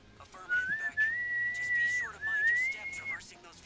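A person whistles a short tune with a few sustained, wavering notes, close to the microphone and alone over faint background game sounds.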